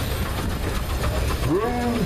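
Mark Peterson's Reeves steam engine runs in a parade with a loud, continuous rumbling mechanical churn close by, and a short rising tonal sweep near the end.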